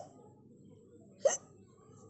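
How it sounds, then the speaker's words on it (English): A single sharp human hiccup pops out once, fairly loud and close, against a quiet background. "hiccup"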